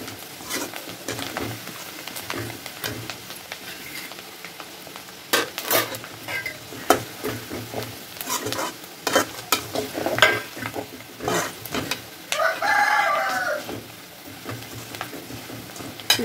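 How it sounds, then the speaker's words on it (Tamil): Sheer khurma ingredients fry in a pan with a continuous crackling sizzle, punctuated by repeated scraping and clinking strokes of a spoon stirring against the metal, close and steady throughout. "இது ஃப்ரை பண்ணும்போதே க்ரன்ச்சினஸ் இருக்கிற மாதிரி எனக்கு சவுண்ட் வருது."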